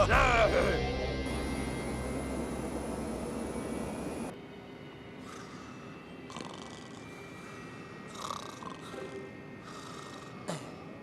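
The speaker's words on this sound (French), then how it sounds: "Arrêtez-moi ces avions!" Cartoon airplanes roar loudly in a soccer-themed animated scene, a heavy engine drone that cuts off abruptly, followed by quieter scattered effects and brief voices.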